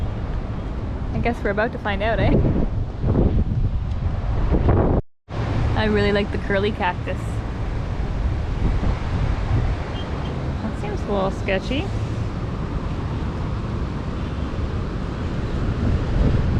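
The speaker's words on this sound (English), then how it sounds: "Is it always this windy?" Strong wind buffets a rooftop overlooking the Caribbean Sea, a steady roar rumbling into the microphone under people chatting, with a brief dropout partway through.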